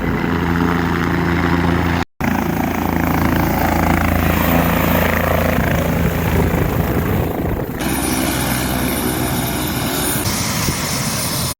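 A helicopter for joy rides to the Medaram fair in Hanamkonda drones loudly and steadily at close range, its engine and rotor noise filling the scene without a break.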